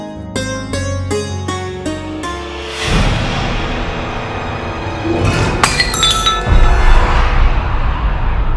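Glass shatters loudly in a dramatic scene, followed by tinkling shards and scattered clinks as the pieces settle.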